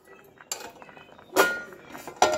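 Metal lid set back onto a pot of cooking rice: a few sharp clinks and clatters, close and distinct, spaced out over a quiet background.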